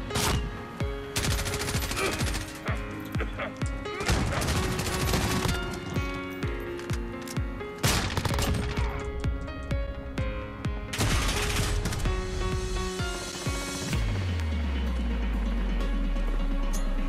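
Heavy, repeated bursts of close automatic gunfire crackle through a Modern Warfare free-for-all match using an M4A1, coming in clustered volleys with brief gaps and ending in a low rumbling boom.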